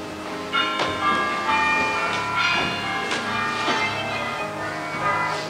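Church bells in a British tower ring changes, a rapid run of overlapping metallic strikes with long shimmering decays, close and loud, sounding in quick succession without pause.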